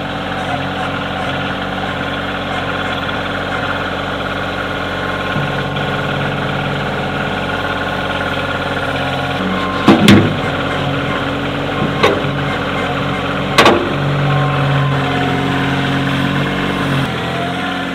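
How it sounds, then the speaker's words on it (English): A tractor engine running steadily while lifting logs, a constant mid-low drone with a few sharp metallic clanks and knocks partway through, with no talking. "lift the logs up with the tractor"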